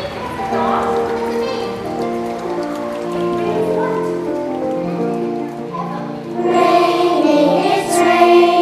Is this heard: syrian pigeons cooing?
no